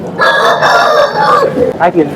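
A rooster at a livestock market crows loudly and close by in one long drawn-out call, followed by a few shorter squawks.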